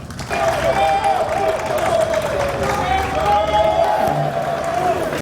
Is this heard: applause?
yes